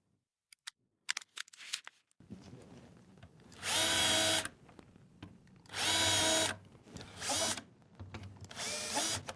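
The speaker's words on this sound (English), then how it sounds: "And I can pre-drill the holes in the drawer." A power drill pre-drills holes in a wooden drawer, whirring in several loud, close bursts of a second or so, separated by quiet handling clicks.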